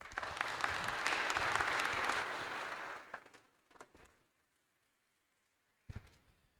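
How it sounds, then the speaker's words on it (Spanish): An audience at an academic conference lecture applauds the introduced speaker, a dense burst of clapping that fades out after about three seconds, followed by a few scattered claps, near silence, and then a single clap or knock. "Le damos un fuerte aplauso."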